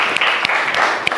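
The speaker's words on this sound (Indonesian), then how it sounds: "tepuk tangan." Students in a classroom give a brief burst of applause, a short patter of claps lasting about a second.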